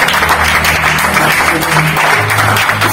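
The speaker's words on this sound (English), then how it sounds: "Can we clap for Jesus?" A church congregation at a retreat claps together in praise, a dense, steady wash of hands that fills the space, loud and continuous with low hum beneath and no voices standing out.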